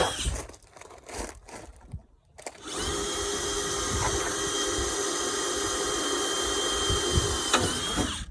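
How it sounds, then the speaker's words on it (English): Power drill boring with a pilot bit during a tailgate table install on a truck, a few handling clicks and rustles first, then a loud continuous whining drill run that holds steady for several seconds. "start off with our pilot drill bit"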